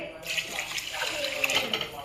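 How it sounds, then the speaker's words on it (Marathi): Water being poured from a vessel into a pot of masala rice, a steady close splashing rush lasting a couple of seconds. "त्याच्यात आता आपण पाणी घालून घेऊया,"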